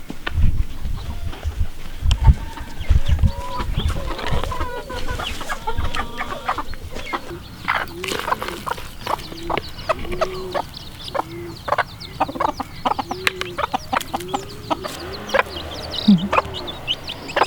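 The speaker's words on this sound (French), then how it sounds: "Ça, c'est des poules qui sont planquées" Hens cluck steadily and close by, hidden away, with repeated short rising clucks over rustling and scratching, and a busy, continuous farmyard feel.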